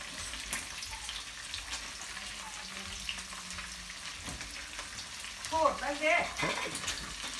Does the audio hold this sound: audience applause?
no